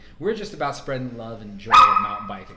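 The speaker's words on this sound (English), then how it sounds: "That's our dog who comes with us sometimes to the studio." A dog in a studio lets out a sharp, loud bark close to the microphone near the end, while someone talks steadily over the scene.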